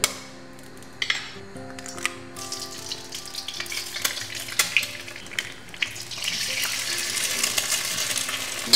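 Two eggs crack into hot sesame oil in a pan over a high flame, with brisk crackling sizzle that builds and grows denser, plus a few utensil clicks near the start.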